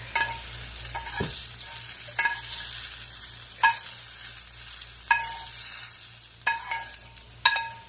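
Mushrooms fry in oil in a pan with a continuous moderate sizzle, punctuated every second or so by sharp metallic clinks and scrapes of a utensil stirring against the pan.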